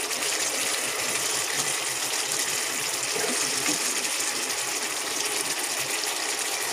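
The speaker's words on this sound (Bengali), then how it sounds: "এক মগ পানি দিয়ে দিলাম," A mug of water poured into beef cooking for a red bhuna gives a loud, steady rushing gush that runs unbroken from start to finish, close by.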